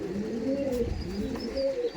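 Dasu and Potash breed pigeons in a Howrah loft coo in soft, repeated throaty rolls close by, with a faint chirp above the low murmuring calls.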